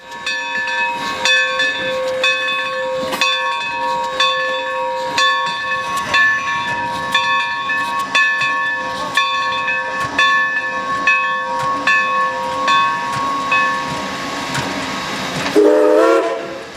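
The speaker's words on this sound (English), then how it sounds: "the train arrived in Woodstown" Woodstown Central Railroad No. 9 steam locomotive pulls into Woodstown in rural New Jersey, its steady hiss and mechanical clatter carrying loud and close, with whistle-like tonal notes and a brief squeal rising at the end.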